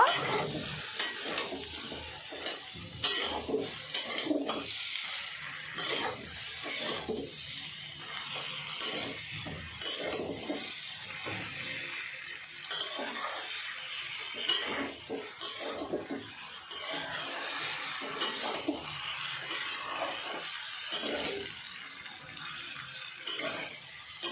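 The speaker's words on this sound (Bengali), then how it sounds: "এবার দিয়ে দেবো কেটে রাখা আলু। সব কিছু ভালো করে মিক্স করে নেব।" Cut potatoes are being stirred and mixed into a thin rohu fish curry in a pan, with steady sizzling and scraping strokes of the spoon, close and fairly soft, and occasional splashy bursts throughout.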